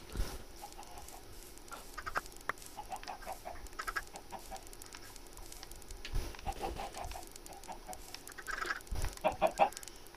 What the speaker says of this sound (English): We have too many chickens.